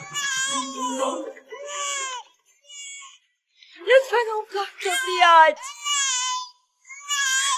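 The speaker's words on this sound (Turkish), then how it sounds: "Ağlama." A young girl cries in a Turkish-dubbed Indian drama, her sobbing wails interleaved with a woman's urgent, pleading speech across the scene.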